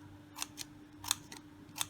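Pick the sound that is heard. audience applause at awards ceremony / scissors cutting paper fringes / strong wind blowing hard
scissors cutting paper fringes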